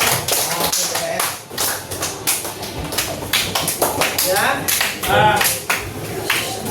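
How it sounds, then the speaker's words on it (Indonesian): Group clapping during a training session, brisk broadband taps across most of the span, mixed with a voice speaking over it and some shuffling. "Benar, rekan tepuk tangan."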